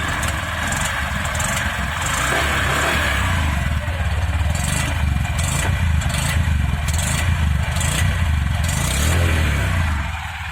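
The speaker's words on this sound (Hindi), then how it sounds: "ये रहा भाई इन दोनों बाइकों के इंजन का साउंड" A Honda SP 160 or SP 125 motorcycle engine runs steadily at close range, a low throbbing idle with periodic rattling pulses, no talking.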